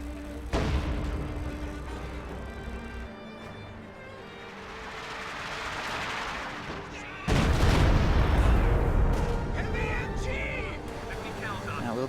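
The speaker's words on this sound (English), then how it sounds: "Whoa, Katyusha barrage almost takes out the Katyusha again." Katyusha rocket barrage in a strategy video game: a low rumbling roar of rocket fire and explosions that swells, then hits a sudden louder burst partway through and keeps booming, with a voice talking over it.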